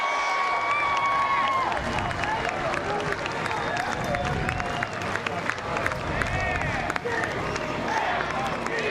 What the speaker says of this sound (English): give Max Wagner a round of applause out there in Cajun country